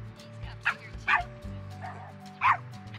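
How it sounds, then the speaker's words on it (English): A dog barks in a few short, sharp yips spaced about a second apart over a steady low hum, fairly close but moderate in volume. "Now he just started barking because he heard it."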